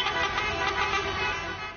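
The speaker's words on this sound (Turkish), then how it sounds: "Eyüp Sultan'da ise caddeler korna sesleriyle yankılandı." Truck horns blare along a street during a protest in Eyüp Sultan, a dense wash of overlapping honks that lasts under two seconds.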